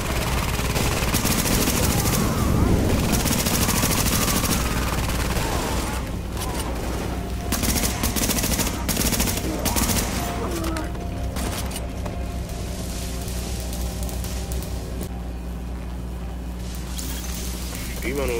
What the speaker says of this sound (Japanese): 銃声はお前だよな。